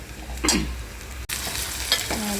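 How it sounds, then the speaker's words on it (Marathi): Onion sizzles steadily in a hot pan, up close, with a few quick stirring scrapes rising over the frying and a brief cut partway through. "चला आता कांदा टाकलेला आहे पॅनमध्ये, कांदा भाजत आहे।"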